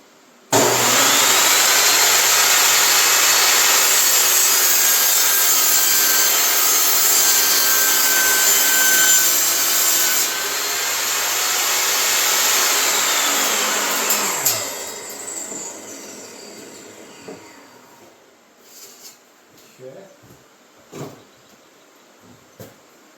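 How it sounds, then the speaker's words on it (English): Saw cutting a wooden board down to a 28-inch length for shop stairs, a loud steady rasping cut running about fourteen seconds before winding down, followed by a few quiet workshop knocks. "I'm going to cut this down to give us a 28-inch length that we need"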